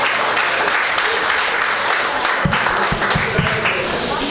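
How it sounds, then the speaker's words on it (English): Sustained applause from a seminar audience on mental health, a dense loud wash of clapping with some voices beneath and a few sharp nearby claps toward the end. "applause, round of applause. Keep it coming"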